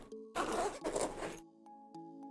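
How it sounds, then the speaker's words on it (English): The side access door on a WANDRD PRVKE 31 camera backpack being unzipped, two quick rasping zipper pulls close up, followed by light fabric handling and quiet surroundings. "This can also be accessed by a side access door here that you can unzip."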